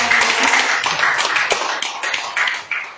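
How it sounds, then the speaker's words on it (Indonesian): Audience applause at an Indonesian community gathering, a dense continuous patter of many hands clapping at once, steady and fairly loud, tapering slightly toward the end. "Beri tepuk tangan sekali lagi."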